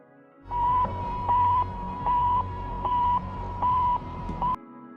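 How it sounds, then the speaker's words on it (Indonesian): A steady electronic tone with a series of beeping pulses about every 0.7 seconds over a low rumbling hum, like a radio signal from orbit. "Sputnik memancarkan gelombang yang bunyinya seperti ini."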